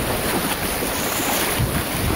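Sea waves wash steadily onto Murud beach in Dapoli, a continuous broad roar mixed with gusting wind noise on the microphone, with no voices.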